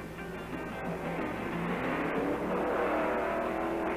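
A 1964 Ford drag racing car accelerates hard down a quarter-mile strip, and its engine makes a loud, steady roar that climbs in pitch. The sound is continuous and heard alone.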